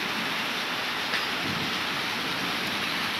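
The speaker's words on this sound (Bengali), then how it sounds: "আর এই যে বৃষ্টি হচ্ছে," Heavy rain pours steadily outside a balcony, a dense, continuous hiss with a low rumble underneath, loud and unbroken throughout with no voices.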